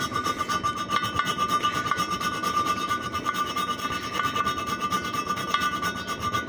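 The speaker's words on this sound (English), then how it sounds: "just go in there and you want to cut notches" A worn blade cuts notches into a broken plastic heater hose connector on an engine intake, producing close, continuous rasping and scraping strokes with a steady back-and-forth rhythm.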